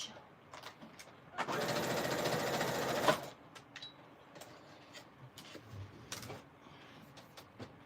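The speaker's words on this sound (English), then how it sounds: "I'm going to sew this just so I don't have to glue as much." A sewing machine stitches through the pages of a Christmas-themed ephemera journal in one fast, steady burst of about two seconds, close and fairly loud, with quieter handling clicks and rustles before and after.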